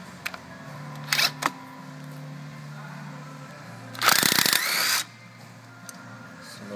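A 10 mm self-tapping bolt holding the ABS sensor is worked out on a Ford Escape, with a few short metallic clicks and ratchet-like bursts and a louder tool burst near the end, close to the microphone.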